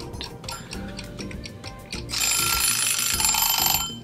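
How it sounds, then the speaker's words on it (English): A kitchen timer alarm rings loudly, a rapid mechanical ticking followed by a bright, sustained jangling ring that carries on for about two seconds. "This is a kitchen timer."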